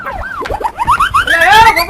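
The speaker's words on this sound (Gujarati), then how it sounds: "આ પોલીસની ગાડીનો હોર્ન નથી સંભળાતો તમને?" A police car siren from a Gujarati comedy sketch set during lockdown, wailing in rising and falling sweeps that climb higher over two seconds, loud and close with a busy background of voices and street noise.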